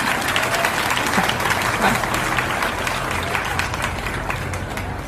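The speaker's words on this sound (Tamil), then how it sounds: "எல்லாரும் கை தட்டலாமா?" An audience claps at an event for the Tamil Pudhalvan education scheme. The applause is dense, steady and sustained throughout, with crowd noise beneath it.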